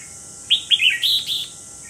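A large Cao Bằng red-whiskered bulbul sings a short, loud, close run of bright chirping notes, four or five quick phrases in about a second, with no other sound around it.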